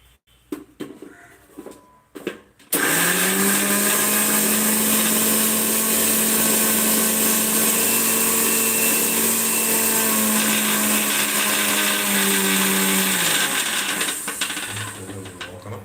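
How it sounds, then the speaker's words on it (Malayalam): A few soft clicks and handling, then a mixer grinder grinding a spice paste starts and whirs loudly and steadily for over ten seconds before winding down. "എന്നിട്ട് മിക്സി വെച്ച് അരച്ചെടുക്കാം"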